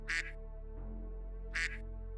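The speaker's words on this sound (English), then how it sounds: "Oh, yeah, there's a duck sound there." Two loud, close duck quacks from a sound effect sit about a second and a half apart, each a short nasal burst over a steady low background hum.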